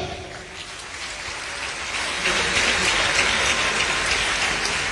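A hall full of party representatives applauds government ministers and vice-ministers, a dense, rain-like clatter of many hands that builds slightly midway and holds steady, heard from within the audience.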